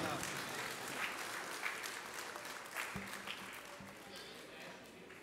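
Applause greeting a guest invited to the stage at a Sir Syed Day alumni event in Jeddah, fairly faint dense clapping that carries on steadily, with a few low thumps partway through.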